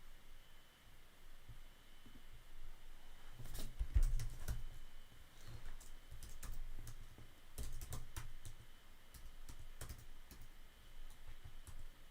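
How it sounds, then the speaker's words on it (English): Typing on a laptop keyboard set to a Japanese layout, with bursts of quick, light key clicks in irregular clusters, close and fairly quiet over a steady faint hiss. "Hold up, I'll just type it on the laptop"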